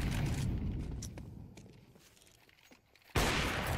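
Gunfire in Counter-Strike 2 during a Flamengo versus Legacy grand final match, a dense burst of shots that tails off into quieter shuffling before another loud blast cuts in at the end.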